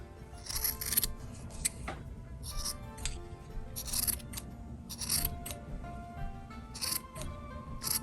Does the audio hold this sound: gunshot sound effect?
no